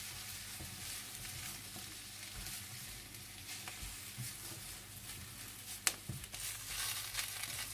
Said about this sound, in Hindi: आप इसमें बीफ डाल दें और इसे भी तेज आंच पर भून लें